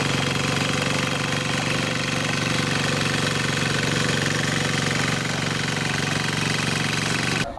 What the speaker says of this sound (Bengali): আর আমাদের এই মিনি টিলারটি হবে ডিজেল ইঞ্জিন